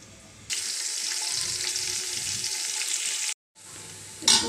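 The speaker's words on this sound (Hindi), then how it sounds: "प्याज डाल देंगे, ऑनियन और लहसुन डाल देंगे।" Onion and garlic frying in a hot pan with whole spices like black pepper, cloves and cardamom, a loud continuous sizzle with a brief gap and a sharp burst near the end.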